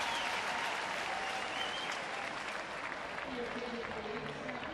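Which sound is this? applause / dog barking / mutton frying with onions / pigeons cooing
applause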